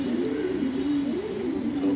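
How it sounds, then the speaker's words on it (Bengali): A female pigeon cooing close by, a low throaty rolling coo repeated in a steady, undulating pattern over faint background hiss. "একটা মাদি কবুতর, নিউ কালেকশন।"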